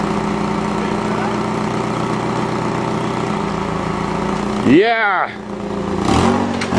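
A fuel-injected 1992 Toyota Corolla, being fixed up for offroading, runs at a steady loud idle, then drops briefly as it is put in drive before picking back up; a short spoken word is heard.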